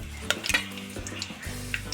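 Whole spices including cinnamon, cloves and black pepper fry in a pan for a mutton trotters curry, with a soft sizzle and a few close clinks of a spoon stirring against metal.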